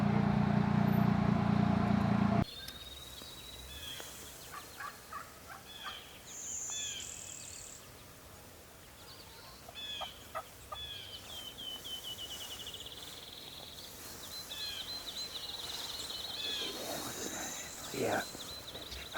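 Wild turkeys call in a field during a hunt, with faint, scattered clucks and yelps carrying from a distance over a quiet outdoor background after a brief loud rustle at the start.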